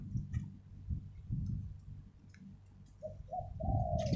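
A Thai dove coos in a few short, soft calls near the end, heard close against a low rumbling background.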